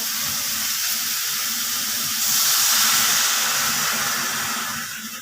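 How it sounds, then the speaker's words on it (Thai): A steady, loud rush of broth poured into a hot pot of pork, hissing and steaming throughout, easing off at the end. "เทน้ำซุป"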